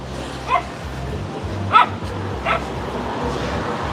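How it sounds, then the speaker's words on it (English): Street dogs in Chiang Rai, Thailand give three short yipping barks, spaced apart and moderately close, over busy outdoor street noise. "Yeah, they always try to bark."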